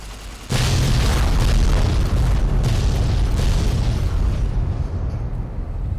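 A laser detonator blast in Fallout: New Vegas Lonesome Road, a sudden loud booming explosion followed by a long rumbling roar that slowly fades.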